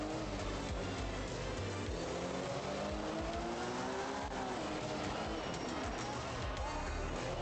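Rally car in the video game The Art of Rally roars continuously at full volume, engine revving and shifting pitch as it accelerates, with tyre noise, while someone talks over it.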